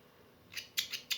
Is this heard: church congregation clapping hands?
no